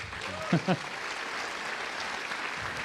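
Steady applause from an audience fills the clip, with a brief voice cutting in near the start.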